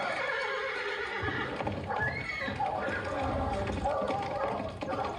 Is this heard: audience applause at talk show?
no